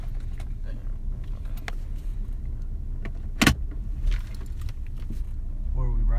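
Cabin of a new Maybach coupe on the move, with a steady low road and engine rumble throughout, a sharp click or thump near the middle, and people talking over the ride.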